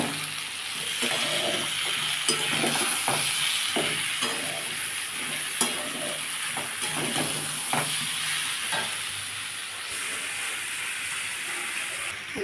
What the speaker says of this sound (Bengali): এটাকে ভালো করে কষতে হবে